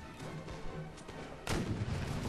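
Cannon fire in Mount & Blade Warband booms out amid a dense battle din, with a heavy blast near the middle following fainter distant thuds.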